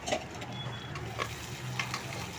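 Onions stirred in a hot pan for biryani, a steady close sizzle of frying with scraping stir strokes and small clicks of the spoon throughout, no voices.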